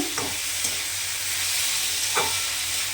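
Snake gourd fries in a pan with onion, nigella seeds and green chillies, making a steady close sizzle broken by a couple of brief spatula scrapes as it is stirred.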